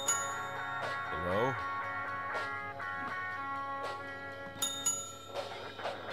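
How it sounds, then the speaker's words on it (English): A desk bell in the horror video game Those Who Remain is struck three times, each bright metallic ding ringing out over quiet music and ambience, with a voice faintly heard in places. "I've given them three bells, so you know I'm going in."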